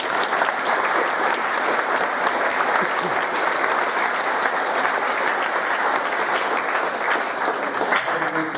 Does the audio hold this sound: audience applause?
yes